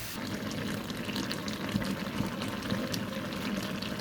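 Masala for a potato and soybean curry cooks down in a pan, giving a soft, continuous bubbling sizzle with faint stirring, quiet and without speech.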